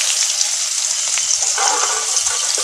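A large chopped onion hits hot oil after a tempering with dried red chilli, giving a steady, loud sizzle with a brighter crackling surge partway through.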